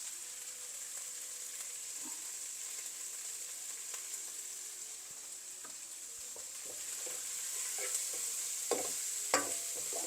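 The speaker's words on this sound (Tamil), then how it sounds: "இது கொஞ்சம் பொரிஞ்சு கொண்டு வருது" Dried baby prawn sambol sizzles steadily in a pan with chilli powder and turmeric, a continuous bright frying hiss with occasional small pops and stirring scrapes, moderately quiet and without speech.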